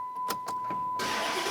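Chrysler 300 sedan from 2005–2010 starting up: a couple of short starter cranks, then the engine catches and settles into a steady, broadband running sound close by, with no talking.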